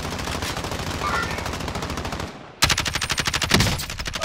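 Rapid automatic M4 rifle fire in a shooting video game, a dense continuous stream of close shots that breaks off briefly and then resumes in a louder, evenly spaced burst, with no speech.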